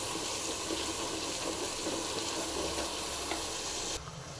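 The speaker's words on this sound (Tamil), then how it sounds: "நல்லா ஃப்ரை ஆகட்டும்" Masala for brinjal gravy fries in a pan with a continuous loud sizzle, close up and steady throughout, dropping off slightly at the very end; no talking.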